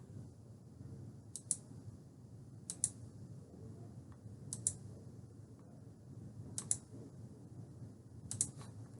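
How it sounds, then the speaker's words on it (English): Computer mouse clicks at a desk, quiet sharp clicks arriving in small pairs and clusters every second or so over a faint low hum, with no talking. "double-clicking on the API result, and clicking through"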